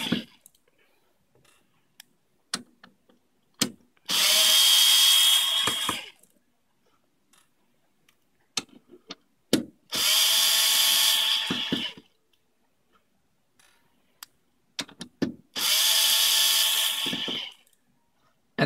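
A power screwdriver backs screws out of the top of a RADAR studio recording computer, sounding three separate whirring bursts of about two seconds each, with scattered clicks and handling taps in between.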